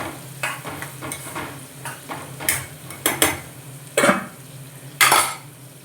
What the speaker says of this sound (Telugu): కూర అయితే మధ్యలో కలుపుతూ